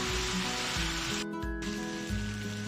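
Macaroni and vegetables stirred together in a hot oiled pan, a steady close sizzle with faint scraping and a brief pause midway.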